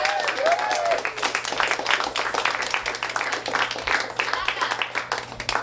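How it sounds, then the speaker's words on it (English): Students applaud themselves at the end of a quarter in a classroom. Several people clap in a loose, fairly close patter, with voices talking over the clapping and a low steady hum underneath. "Just really give yourself a round of applause."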